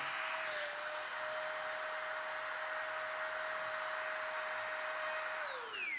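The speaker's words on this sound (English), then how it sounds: "this gets the air, doesn't compress down and start sucking up the clothes and close the valve off" A vacuum pump draws air out of a 60-litre carry-on compression backpack, giving a loud, steady whine with a constant drone that holds evenly and then drops in pitch as it winds down at the end.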